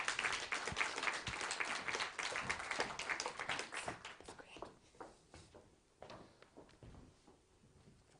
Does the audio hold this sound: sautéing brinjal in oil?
no